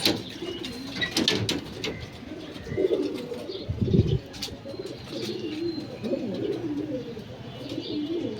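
Pigeons coo in low, throaty, repeated calls nearby, with several birds overlapping and faint chirps and rustling in the background.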